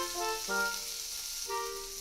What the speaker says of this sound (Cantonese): 今晚一於就整香辣煎牛肉啦